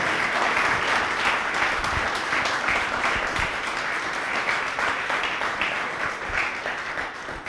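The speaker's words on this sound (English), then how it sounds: "One big applause for this holistic answer." Audience applause at a startup event, a thick continuous wash of clapping from many people, loud and steady for the whole stretch without letting up.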